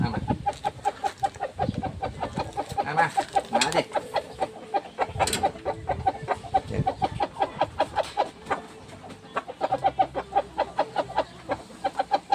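Chickens cluck nearby at feeding time, with dense, rapid overlapping clucks and squawks from a flock, and a rooster-like call now and then, alongside scattered handling noises throughout.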